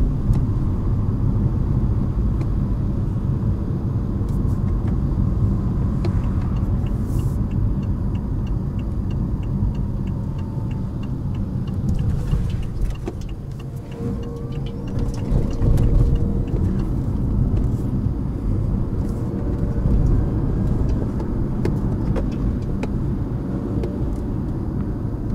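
A 2019 BMW i8 with an 11.6 kWh battery runs in electric-only mode on a wet road, braking as it goes: a steady low road rumble and tyre noise with a faint electric whine, continuous and close, with no talk.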